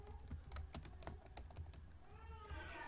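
Close, quiet computer keyboard typing, with bursts of crisp key clicks in an uneven rhythm and brief pauses between them, and no voices.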